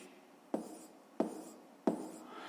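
Three evenly spaced taps of a pen writing on paper, quiet and close, with faint scratching between them.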